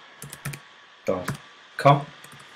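Key clicks on a Mac computer keyboard with an American layout, typing a web address: short clusters of taps near the start, with a voice speaking in between.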